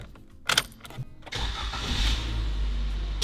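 A Suzuki Jimny engine cranks briefly with a couple of sharp clicks, then catches and settles into a steady, smooth idle hum that holds close and fairly loud to the end.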